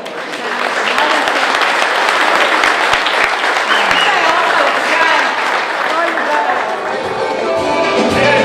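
Wedding guests at Hotel Toplice break into big, sustained applause, a dense crowd of hands clapping loudly for several seconds with a few voices mixed in.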